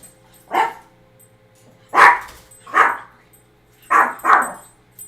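A dog barks five times in short, sharp bursts, with two close together near the end, each clear and close against a quiet room, with no talking between them.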